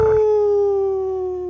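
Chester, a dog in a video game, lets out one long, steady, tonal howl that begins loud and close, slowly sinks in pitch and fades toward the end, with no talking over it.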